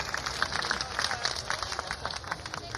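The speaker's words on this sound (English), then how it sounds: "How about a big round of applause for Mr." Audience clapping for Scott Edwards at a live comedy and music show, a dense steady patter of many hands, fairly close and continuous throughout, with a voice briefly heard under it.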